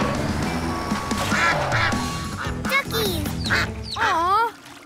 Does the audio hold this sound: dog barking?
no